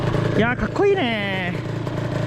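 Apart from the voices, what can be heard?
1987 Honda NSR50 motorcycle engine running, warming up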